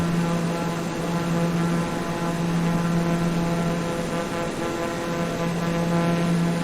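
Light aircraft engine droning steadily in flight on a cross-country trip from Lubbock, Texas toward Phoenix, Arizona, a loud, constant propeller hum heard from inside the cabin.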